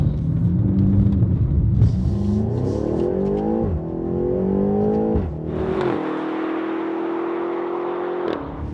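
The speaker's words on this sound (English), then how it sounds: "This is the X6 M on the road where it really belongs, I think." A BMW X6 M (F16) accelerates on the road. Its engine note climbs through several gears with brief dips at each shift, then settles into a steadier, smoother drone.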